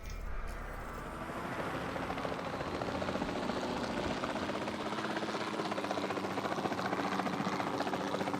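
A helicopter in Jurassic World Evolution 2 spins up and holds a steady rotor drone, the blade chop and engine whine growing louder over the first seconds then staying constant and close.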